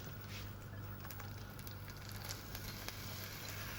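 Onions and potatoes sweat in melted butter in a pan, giving a soft, even, continuous sizzle that stays faint and steady throughout, with no other sounds.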